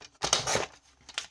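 Paper for a pop-up beach-bag album page being cut with scissors: two quick, close snips, a short pause, then a final snip.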